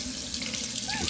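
Tap water running steadily to fill a bath for a monkey, a close, continuous rushing splash into the basin with no pauses.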